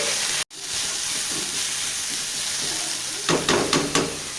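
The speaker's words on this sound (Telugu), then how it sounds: "అల్లం ఉల్లిగడ్డ వేసుకొని కలుపుకొని పసుపు ఉప్పు వేసుకోవాలి" Ginger-onion paste frying in a pan for a broccoli curry gives a loud, continuous sizzle. It briefly cuts out, then a run of scraping stirs at the end.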